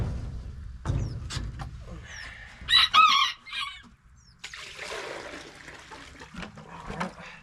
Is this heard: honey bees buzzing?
no